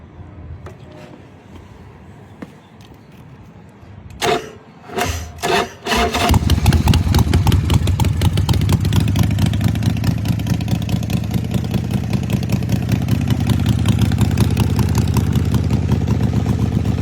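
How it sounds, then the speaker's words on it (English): A red 1998 Bourget Python custom chopper motorcycle sputters through several uneven starting bursts, then settles into a loud, steady, throbbing idle that runs to the end, close up and without talk. "A red custom Bourget Python chopper"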